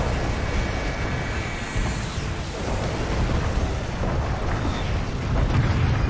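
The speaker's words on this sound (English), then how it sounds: "That's a fair airstrike." A long, rumbling airstrike explosion roars and sustains for several seconds in the online shooter Renegade X, loud and broad with no pause.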